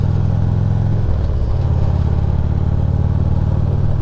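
A Harley-Davidson twin cam motorcycle engine runs loud and close with a deep, lumpy low rumble, its pitch shifting partway through as the revs change before settling into a steady idle-like throb.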